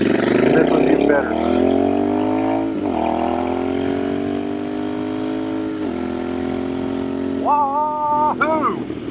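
A Royal Enfield Bear 650 motorcycle fitted with a Dustland shotgun pipe exhaust runs close and loud, its engine note rising and falling through several throttle blips and revs, with a couple of sharp rises near the end.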